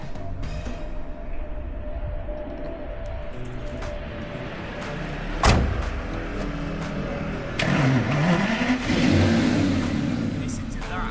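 Aston Martin Vanquish S engine cranking to life with a sharp start, then idling before climbing through a couple of rising revs, nearby with a person talking over it.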